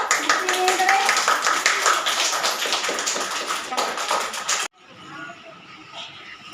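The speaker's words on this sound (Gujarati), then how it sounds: "બધાને તાળી પાડો." An audience at a Poorna Day celebration breaks into applause, a dense, steady burst of many hands clapping that ends abruptly after about four and a half seconds, leaving quieter room murmur.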